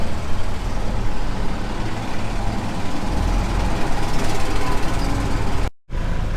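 A farm truck's engine idles steadily and loud, a continuous low diesel rumble with no voices, cutting out abruptly for a split second near the end before resuming.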